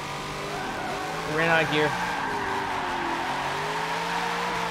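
A racing video game car, driven with a MOZA R3 wheel, drifts round a corner: a steady engine drone with a brief rising tire squeal, while a person talks over it.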